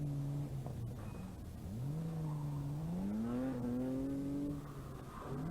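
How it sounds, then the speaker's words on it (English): A BMW rally car on a stage of the 1983 Ulster Rally passes with its engine droning and rising in pitch through gear changes, a steady close roar lasting several seconds, with no talk over it. "Ian Hughes doesn't get it just right with the BMW."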